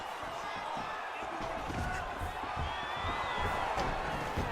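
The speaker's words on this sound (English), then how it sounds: "nice pop there from the crowd as he finally gets the takedown" A crowd at a UFC 4 video game bout roars steadily as a fighter lands a takedown. The noise is a broad, continuous wash with thuds and scattered cries, and faint voices sit underneath.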